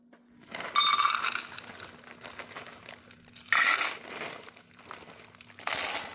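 A bag of flour rustles and crinkles as the rest is tipped out for folding into a batter, in three short crackling bursts separated by quieter handling, with no talking.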